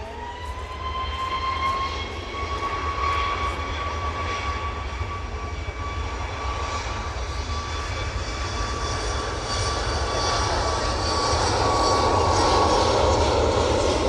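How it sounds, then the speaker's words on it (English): A Ryanair passenger jet at East Midlands Airport roars steadily for the whole stretch, a loud continuous engine drone with a whining tone, building slightly toward the end. "Second to last aircraft on this afternoon's stream, and the Ryanair service to Venice, followed by the service to Alicante."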